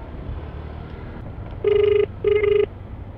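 An outgoing phone call rings back in two short, steady electronic tones separated by a brief pause, faint and tinny over low background hum.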